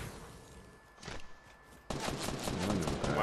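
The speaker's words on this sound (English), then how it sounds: "Wow, he's already shooting at me." Fortnite gunfire in a match, heard as a burst of rapid shots that starts abruptly and continues loud through the second half after a quieter opening.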